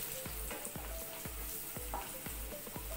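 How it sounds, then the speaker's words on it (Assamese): Chopped onions frying in a pan for a dry fish chutney, with a steady crackling sizzle and a regular series of stirring scrapes roughly every quarter second, close by with no talking. "তাৰপিছত এয়া আপোনাৰ পিঁয়াজখিনি ভাজিছোঁ"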